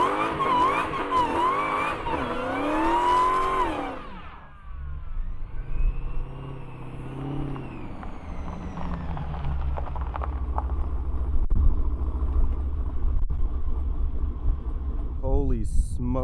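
A 1,200-horsepower two-wheel-drive Dodge Demon revs hard, then settles into a loud, sustained roar of spinning, smoking tires being warmed up, with rough engine rumble running underneath.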